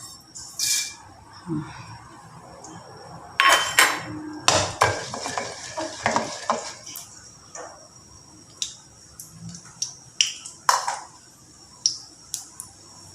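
Urad dal dropped into hot oil in a pan for a stir-fry of long beans, giving a cluster of crackling sizzles and sharp clinks of utensil on pan, with short spurts of spluttering through the middle and later scattered pops.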